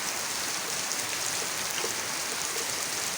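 Steady rain falls continuously in a broad, even hiss during a rainy day at home, with no pauses or voices.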